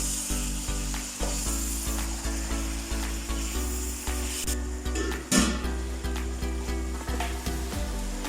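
Chicken pieces cooking with a little yogurt for chicken jalfrezi, sizzling steadily and close in a hot pan, with occasional soft scrapes and knocks of stirring; no one speaks.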